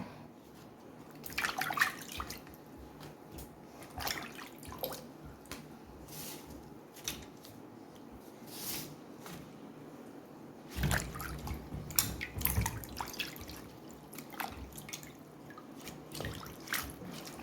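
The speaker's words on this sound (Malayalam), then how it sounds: "നമ്മുടെ വെള്ളത്തിലിട്ട് നമുക്ക് കഴുകി ഇട്ട് വെള്ളം തോരാൻ വെച്ചിട്ട് ഒന്ന് തുടച്ചെടുക്കാം" Leaves being washed in water and left to drain, with soft intermittent drips, splashes and squishes at close range, irregular and fairly quiet, with a few louder wet bursts midway.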